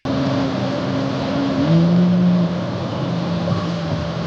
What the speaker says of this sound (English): he proceeds to accelerate for no reason, resulting in the hydroplaning of the car and ending in a crash